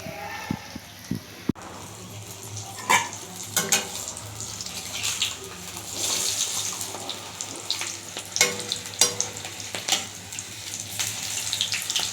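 Stuffed green chillies frying in hot oil, a close, steady sizzle that runs throughout, with occasional clinks and stirring knocks from the pan.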